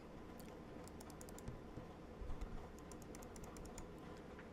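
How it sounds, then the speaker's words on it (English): Left and right buttons of a Fnatic Flick 2 gaming mouse clicked repeatedly, a quiet string of sharp, crisp clicks at an uneven pace, close up with no voice over them. "So those are the left click and the right click"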